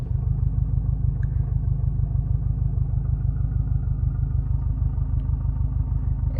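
A 2021 Subaru STI with a Group N shifter idles close by, a low steady rumble with a fast even pulse and faint clatter from the shifter running through it.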